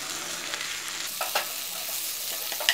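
Potato masala for poori sizzles and fries in a pan as it is stirred and sautéed, a constant close hiss broken by a few brief scraping stirs, with no talking.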